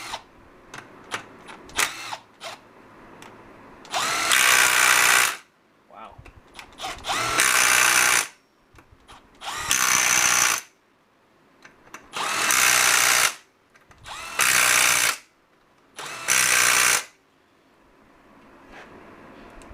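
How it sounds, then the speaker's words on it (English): Milwaukee M12 Fuel cordless impact driver driving screws in loud bursts of a few seconds each, six hammering runs separated by short pauses and quieter handling noise. "For an impact driver, something that you can drive screws in with, this seems very powerful."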